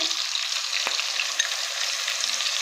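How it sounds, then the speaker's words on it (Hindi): Green chillies and garlic ginger paste fry in hot oil for a masoor and chana dal, with a steady close sizzle and hiss and a brief scrape of a stirring spoon. "लहसुन अदरक का पेस्ट डाल के इसको हमने अच्छे से चला लिया है ताकि ये थोड़ा सा फ्राई हो जाए"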